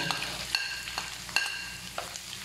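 Garlic and ginger frying in a pan for squid adobo, a close, steady sizzle broken by a few sharp crackles and stirring scrapes, with no voice over it.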